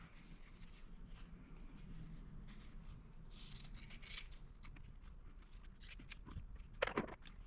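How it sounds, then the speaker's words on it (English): Scissors cut through small quilt fabric pieces in quiet, soft snips, and a brief sharper click of the blades lands near the end. "I'm just going to use my scissors since there's only 9 of them here"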